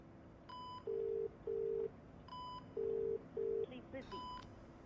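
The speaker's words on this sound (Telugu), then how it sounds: "ఒకసారి ఫోన్ ట్రై చేయి." Telephone call tones in a film scene: a steady low tone runs beneath short, evenly spaced beeps in pairs, with brief bursts of dialing-style tones between them.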